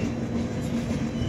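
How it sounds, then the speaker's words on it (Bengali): Amritsar Mail passenger train 13005 running on its Howrah to Simla route, a steady low rumble with a faint hum from inside the moving carriage, continuous and fairly loud. "আমাদের ট্রেন পৌঁছে গেছে মোরাদাবাদ জংশন।"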